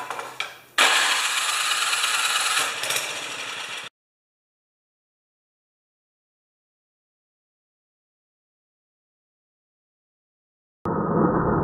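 A 1973 Tecumseh snow blower engine in neutral cranks and fires, running loud and close for about three seconds before cutting out, followed by a long silence and then a renewed engine roar.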